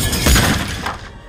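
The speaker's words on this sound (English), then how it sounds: "only for the barrier to shatter and drive her to the railing" A magic stone barrier shatters as a sound effect, with one loud crash of breaking, crumbling debris that rings out briefly, then fades over about a second.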